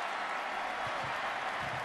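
Stadium crowd at a college football game, Central Michigan at Oklahoma State, roaring steadily as a 17-yard run unfolds; a dense, sustained broadband cheer with no break across the moment.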